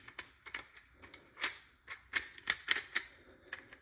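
BBs being pushed one at a time into a Valken M17 airsoft pistol magazine, giving a run of sharp, light clicks at an uneven pace, close and fairly quiet, with no talking.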